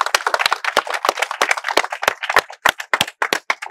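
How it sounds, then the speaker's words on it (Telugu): An audience claps in a spoken English class: a brisk, uneven run of sharp hand claps, close and fairly loud, with a few gaps between bursts and no voices over it. "Yes, claps for them."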